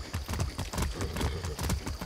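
Horse hooves clip-clop in a quick, steady rhythm while riding in the video game Far Cry 6, close and loud, with no voices over them.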